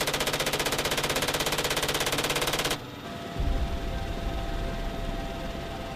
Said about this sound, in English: The 30mm chain gun unleashes controlled bursts.